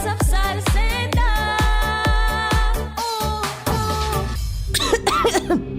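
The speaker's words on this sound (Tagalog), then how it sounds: "Ubo, plemang nakabara," Repeated coughing with phlegm comes in a fast run of harsh bursts, followed by strained, rattly throat sounds, loud and close.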